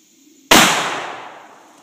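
A single loud, close 12-gauge shotgun blast from a 2¾-inch double-aught buckshot shell during a ballistics demonstration, sharp onset and a long ringing decay in otherwise quiet surroundings.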